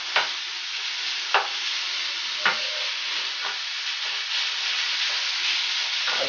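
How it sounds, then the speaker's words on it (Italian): Minced meat browning in a hot frying pan for olive all'ascolana filling, a steady close sizzle running throughout with a few sharp scraping stirs of a spoon at intervals. "Aggiungiamo la carne, la facciamo insaporire per bene in padella"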